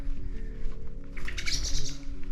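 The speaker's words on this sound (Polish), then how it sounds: "Ale mnie ptaki przestraszyły" Birds at an abandoned children's summer camp burst into chirping calls partway through, sharp, bright tweets layered over a low background rumble, fairly close and without talk.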